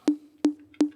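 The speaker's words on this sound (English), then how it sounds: "Drums and percussion, single drums, toms, electronic toms" Electronic tom sample triggered in the Logic Pro sampler, three evenly spaced punchy hits, each a sharp attack followed by a short tonal decay, clean and close with no other sound.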